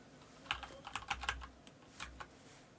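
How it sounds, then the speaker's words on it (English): Someone types on a new computer keyboard, a quiet run of light irregular key clicks in two short bursts, close up with no talk. "I've got a new keyboard that Columbus gave me."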